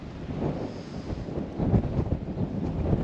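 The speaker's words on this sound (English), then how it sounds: "It's very windy." Wind buffets the microphone on a coastal walk near lighthouses, a steady low rumble with gusty surges, close and fairly loud, with no voices.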